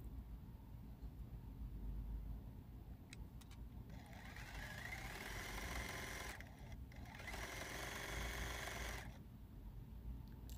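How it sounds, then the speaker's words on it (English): Sewing machine stitching a seam on an Americana Liberty Wall Sampler quilt, one faint, steady run of whirring in the middle, with quiet before and after. "we're going to sew this seam right here"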